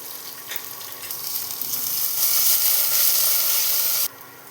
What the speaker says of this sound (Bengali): আর কুচনো রসুন, বেশ খানিকটা রসুন আছে, কিন্তু এটা ফ্রাই করতে হবে।